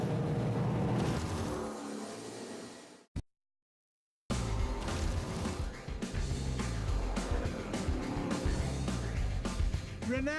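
A Shelby Super Snake accelerates hard at high speed through the desert, its engine roaring and climbing in pitch through the gears, cutting briefly to silence before the loud, close roar resumes and keeps pulling.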